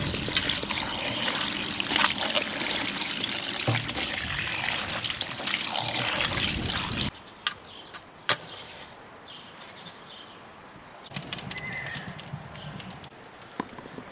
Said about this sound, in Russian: Сейчас мы пойдем эту килечку хорошенько помоем